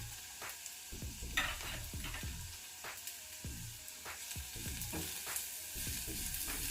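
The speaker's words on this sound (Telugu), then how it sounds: "ఇదంతా వేసి 1 నిమిషం పాటు వేయించుకుందాము" Pounded garlic and curry leaves fry in oil in a pan. A close, steady sizzle runs throughout, broken by repeated rhythmic scraping strokes of a spatula.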